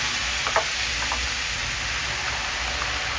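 Spiced potato slices fry in hot oil, giving a steady, dense sizzle throughout with a few brief crackles and pops near the start and no voices.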